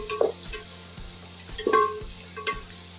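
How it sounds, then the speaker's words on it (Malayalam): Tomatoes fry in a pan with a soft sizzle beneath several quick stirs; spoon scrapes and clinks come in brief bursts roughly every second, close up, with no talking. "ഇതിലേക്ക് നമുക്ക് തക്കാളി ആഡ് ചെയ്യാം. തക്കാളി ഇട്ട് കൊടുത്തു."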